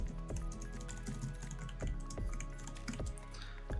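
A password goes in on a computer keyboard, with soft, quiet key presses tapping in an uneven run of several strokes.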